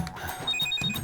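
Telephone ringtone trilling in repeated short bursts in a home, fairly close and clear, with faint background noise and no talking.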